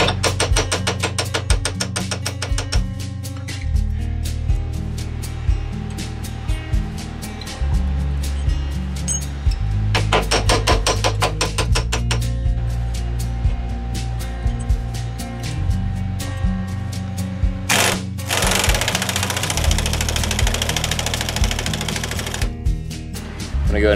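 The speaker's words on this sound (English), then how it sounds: "I'm about to get this Pitman arm bolted in." Tools clatter and ratchet in irregular bursts while a Pitman arm is bolted onto the steering box of a first-generation Toyota 4Runner, joined near the end by a long, steady whirring of a power tool over a constant background hum.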